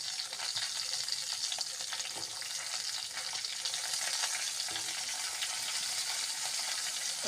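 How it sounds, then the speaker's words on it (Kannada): Chopped green chilies frying in oil for cabbage gojju, a continuous sizzle with occasional stirring scrapes, close and fairly soft. "ಹಸಿಮೆಣಸು ಕಟ್ ಮಾಡಿ ಹಾಕಿ ಹಿಡಿಸು. ಸರಿಯಾಗಿ ಫ್ರೈ ಆಗಲಿ."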